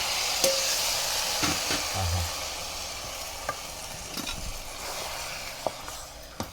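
Mutton dropped into sizzling spiced oil in a pot over a village wood-fired stove and stirred, making a steady close frying hiss broken by scattered scraping and clinking knocks, with no talk.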